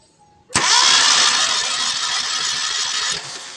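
Car engine with its number 3 cylinder not firing, cranking and catching suddenly, then running loud and rough with an uneven pulsing beat for about three seconds before dropping off, no talking.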